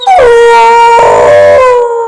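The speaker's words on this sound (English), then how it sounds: "The 9-year-old piano-playing Beagle, adopted from a shelter, has howled his last." A shelter-adopted nine-year-old beagle known for playing piano lets out a loud, sustained howl with a rising then wavering tone, one continuous cry lasting about two seconds with no talking.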